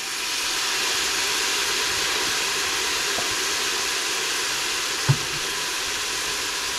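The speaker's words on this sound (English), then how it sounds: "Next we're going to add in our garlic" Garlic sizzling steadily in a hot pot for split pea and ham soup, a continuous close frying hiss with a single faint clink partway through and no talk.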